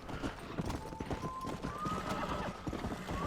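Horse hooves clip-clop in steady rhythm with a neigh rising over them in the Red Dead Redemption video game, set against dense, busy game ambience.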